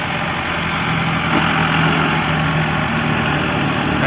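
A 1990 Case 585 tractor engine idles nearby, an even, continuous low drone holding steady with no talk over it.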